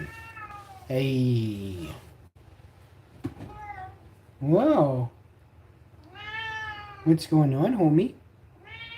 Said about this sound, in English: So this is the cat. Everyone thinks I'm always kicking him or pushing onto him. He just meows.